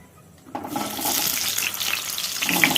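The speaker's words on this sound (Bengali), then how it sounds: "পটল ভাজা হচ্ছে, এই দেখো" Pointed gourd (potol) frying in hot oil in a wok, a steady broadband sizzle that bursts in after a quiet start and keeps crackling close and loud to the end.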